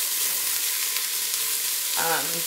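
Sautéing and stirring in a pan over low heat while making shrimp creole, a loud, even, close sizzle with a brief tonal squeak or voice-like sound near the end.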